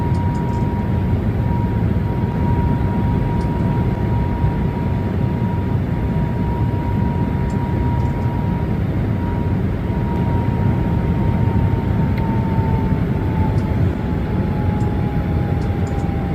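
Boeing 737 MAX jet engines in Microsoft Flight Simulator give a steady, loud broadband roar with a thin sustained whine, continuous and unbroken throughout with no talk.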